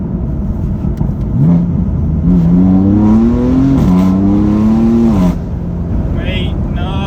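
A stage 1 BMW M4 making about 500 bhp revs hard through an acceleration pull, a loud rising engine drone that climbs, dips at a shift and climbs again, close and steady throughout.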